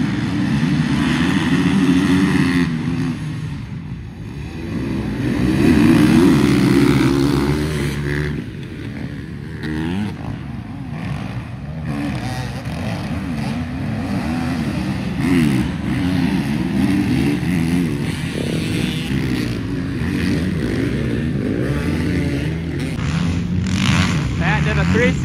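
Dirt bikes race in a 250B stock motocross moto at a Loretta Lynn's area qualifier: a steady wash of engines revving and droning from mid-distance, rising and falling throughout, with voices talking over it.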